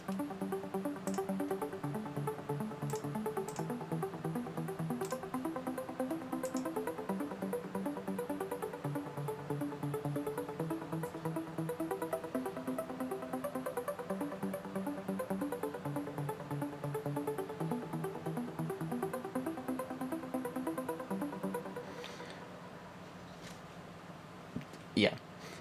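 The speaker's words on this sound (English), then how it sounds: "Lead 4 sounds like this." A trance lead synth patch plays a bright, layered melodic riff with steady rhythmic pulsing, loud and continuous, fading to a thinner tone near the end with a brief burst at the close.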